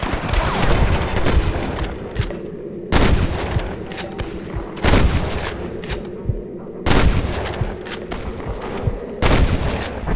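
Gunfire in a Red Dead Redemption shootout: sharp, loud shots at irregular intervals, each with a booming tail and echoes fading between them.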